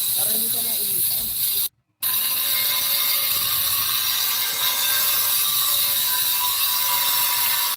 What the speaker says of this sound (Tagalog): Medyo maingay ha, medyo maingay kasi may gumagamit ng gumagawa ng bahay.